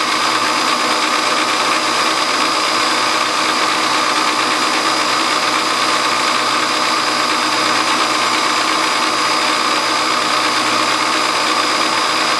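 A machine drills metal governor weight arms in a workshop, producing a loud, steady, unbroken whine with constant broadband noise for over twelve seconds.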